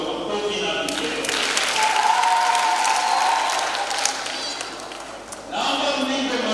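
Applause from a church congregation at a first communion celebration for children in Kijenge parish, Arusha, with a wavering high ululation rising above the clapping before it fades.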